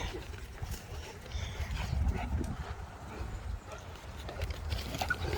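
An off-leash puppy runs and plays with other dogs in a very large dog park, a busy outdoor scuffle of paws and movement with faint rough-play sounds, steady and fairly close throughout.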